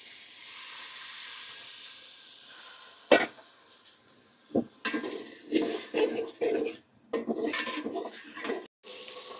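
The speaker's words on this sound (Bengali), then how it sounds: "এখন আমরা মশলাটাকে কষাবো, কষানোর জন্য হালকা একটু পানি দিব।" Spice masala sautéing in a pan with a splash of water, for letka khichuri with shutki bhuna, gives intermittent sizzling bursts mixed with stirring and scraping clatter against the pot. The bursts are moderate and close, with a quieter hiss between them.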